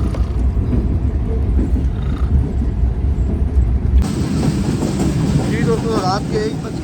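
Shalimar Express train, an old parlour car, rolling on rails at night into Nawabshah: a steady low rumble and rattle throughout, with faint voices and a brief whining tone near the end.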